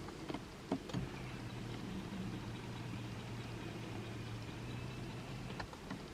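A BMW seat cushion adjustment motor runs during a test after reinstallation, a quiet, steady electric whir lasting about five seconds and bracketed by soft clicks as it starts and stops.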